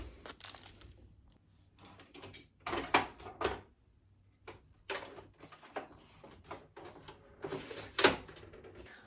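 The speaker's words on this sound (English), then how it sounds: "I'm simply going to load this into my printer." A desktop printer prints sticker sheets, giving irregular mechanical clicks, clunks and short whirring feed bursts at close range in a quiet room, with pauses between the sounds.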